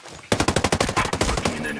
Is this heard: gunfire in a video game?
yes